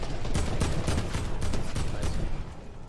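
Rapid gunfire from a Fortnite battle royale match, a dense, continuous burst of shots filling the clip at close range with no talk over it.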